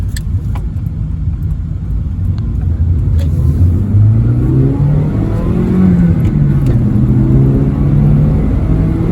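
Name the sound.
car engine driving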